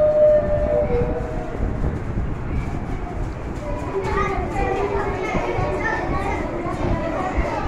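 A group of children chant together imitating a train setting off, their loud rhythmic voices mimicking the train's motion and a siren-like whistle, with other children chattering throughout.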